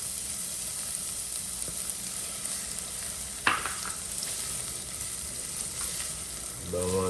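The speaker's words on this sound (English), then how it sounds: "Just a little bit of olive oil. To the saucepan, we're going to add some onion," Half an onion frying in olive oil in a saucepan gives a steady close sizzle throughout, with one sharp clatter midway and a louder crackling burst near the end.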